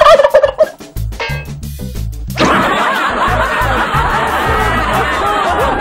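Loud, close turkey gobbling, a rapid rattling burst at the start followed by sustained noisy clucking and chuckle-like calls over a steady rough background.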